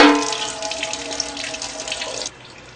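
Coolant drains from a BMW F650GS motorcycle radiator in a steady stream, pouring and splashing into a pan, close and fairly loud, then cuts off abruptly near the end.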